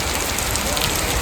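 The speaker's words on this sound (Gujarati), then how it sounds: "પવન આવ્યો વરસાદ આવ્યો" Rain shower driven by wind in a village near Botad, a dense, steady hiss of drops pattering on surfaces, loud and close throughout.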